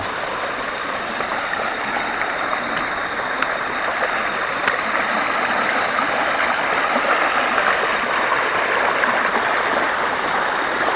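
Steady rushing flow of the Oyo river along a bushy riverbank in Gunung Kidul, a constant close broadband wash of water with no break, heard alone.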